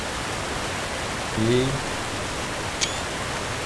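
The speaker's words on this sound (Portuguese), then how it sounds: "A cachoeira fica de fundo." Waterfall in the video game Conan Exiles, a steady broadband rush of falling water that fills the background throughout, with a brief voice and a sharp click partway through.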